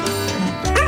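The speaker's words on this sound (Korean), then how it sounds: "일명 주름 강아지라고 불리는 샤페이" A Shar Pei dog gives a few short, close yipping barks, with a louder bark toward the end.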